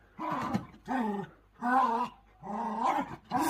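A dog growls and snarls in four long, rough bursts with short gaps between them, close and fairly loud, with no talking over it.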